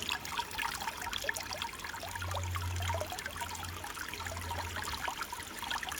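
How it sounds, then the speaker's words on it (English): Water from a rainfall-style water feature patters and splashes steadily like light rain falling into a pool, a continuous bright trickling with a faint low hum underneath. "This is the rainfall sound for a water feature."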